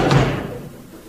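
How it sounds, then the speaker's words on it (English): A single heavy knock on a door as a radio comedy sound effect, one loud, close, dull thud that fades quickly, with no voices over it. "Knock on the door."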